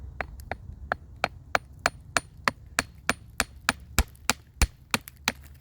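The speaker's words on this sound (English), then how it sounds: "I'm gonna go with my light duty hammer to see what we can do." A light-duty hammer chips at a crystal specimen in about seventeen sharp, evenly spaced knocks, close and crisp over a quiet background.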